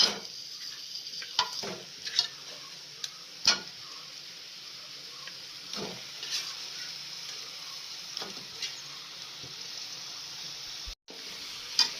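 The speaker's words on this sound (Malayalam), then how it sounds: "അപ്പോൾ അതിലേക്ക് നമുക്ക് ചിക്കൻ ഇട്ട് ഒന്ന് ചെറുതായിട്ടൊന്ന് വഴറ്റാം." Chicken sautés in a masala paste for a Kerala-style chicken mappas curry, giving a soft, steady sizzle. Light stirring taps and scrapes in the pan come through at irregular moments.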